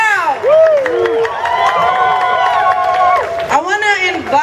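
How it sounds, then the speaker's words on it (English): Crowd noise at an outdoor May Day 2014 rally in Portland, Oregon, with cheering, whoops and clapping rising around a voice over a loudspeaker, loud and steady throughout. "Give yourselves a round of applause."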